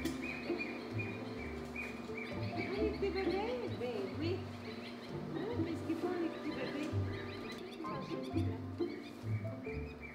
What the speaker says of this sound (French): Là, actuellement, il y a des oiseaux aussi dans la pouponnière.